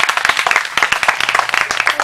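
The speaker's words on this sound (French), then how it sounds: "On acclame pour le Seigneur." A church congregation applauds for the Lord, a dense burst of many hands clapping together at close range, steady and lively for a couple of seconds.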